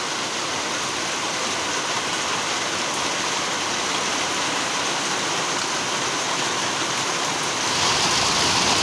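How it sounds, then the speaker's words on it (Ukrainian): Heavy summer downpour after two dry months, pouring onto a rural yard, road and vegetable garden. Dense, continuous rain roars close and loud throughout, swelling slightly near the end, with no voices. "Два місяці не було дощу, на три дні отакі зливи."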